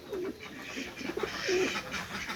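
A female Rampuri pigeon gives a few soft, low coos close by, over a faint background murmur.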